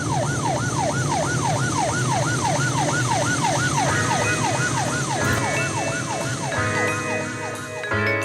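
A police car siren wails in a fast, repeating up-and-down sweep, loud and close over road and engine noise, its pattern shifting near the end as the chase continues.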